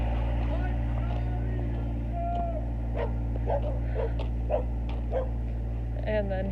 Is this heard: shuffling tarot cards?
no